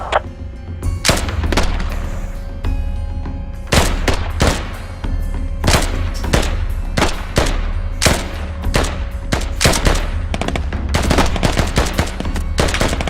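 Airsoft gunfire during a large organized field operation: loud, sharp shots crack nearby in rapid, irregular volleys almost without pause, some single and some in quick strings, with no speech.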